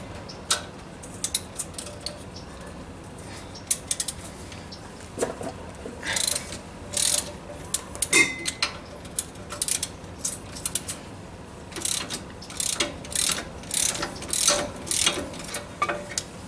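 A ratchet with a shallow extension loosens the brake caliper bracket on a 2003 Ford Mustang, giving bursts of rapid clicking that grow busier and more frequent toward the end, close and alone.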